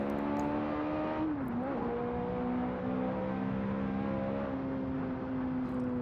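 A manual Ferrari F430 engine holds a steady, loud droning tone, with a brief dip and rise in pitch early on as if shifting or blipping the throttle, then continues evenly.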